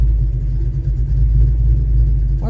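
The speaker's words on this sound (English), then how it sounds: "We're sitting here in the car. It's been running a while." A Ford 302 V8 idling in a Mustang at operating temperature with a suspected dead cylinder: a loud, close, deep rumbling idle with a slightly uneven low pulse, heard from inside the car.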